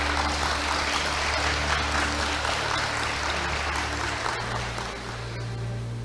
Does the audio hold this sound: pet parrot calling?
no